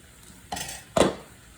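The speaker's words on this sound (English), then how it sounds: "I'm just gonna get like a medium-sized bowl. I'm using this red one." Two brief clunks as a medium-sized red bowl is lifted out and set down on a kitchen counter, the second contact louder and sharper, in an otherwise quiet room.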